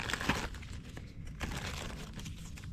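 A plaster is handled in its crinkly packaging, giving a few quiet, close rustles and crackles with a sharper crinkle early on.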